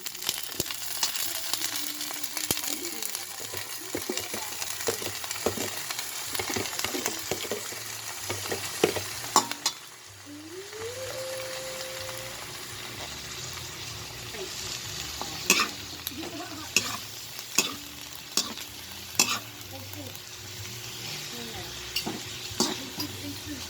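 Bok choy (pechay) stir-fried with garlic fried rice and egg in a pan, giving a steady close sizzle broken by repeated spatula scrapes and clanks. A brief tonal squeak comes partway through, and no one speaks.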